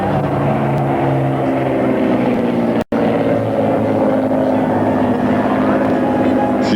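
A Morane-Saulnier MS733 aircraft with a 240 horsepower engine approaches head-on at an air base, its propeller engine droning loudly and steadily, broken by one brief dropout partway through.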